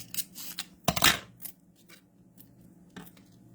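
Scissors snipping through foam tape, a few brisk crisp cuts with one louder burst near the start, close and quiet, with no talking.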